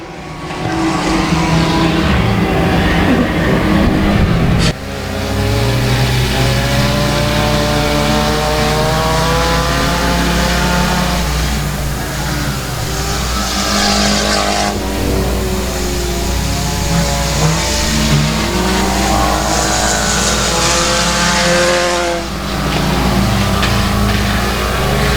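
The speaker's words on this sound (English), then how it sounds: "the car's losing a little bit here as here comes Cornbread." Race cars run side by side at Boothill Speedway, dirt-track style oval racing, with loud continuous engine roar, rising and falling revs as cars pass close by, and sharp shifts in pitch throughout.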